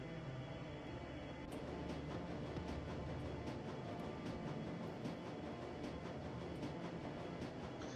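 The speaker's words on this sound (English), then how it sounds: "the train rumbles its way towards Brandenburger Tor" A train rumbles along its tracks in the video game Shadowrun: Dragonfall, an underground U-Bahn ride toward Brandenburger Tor, heard as a quiet, steady low roar with faint rhythmic clicks and no speech.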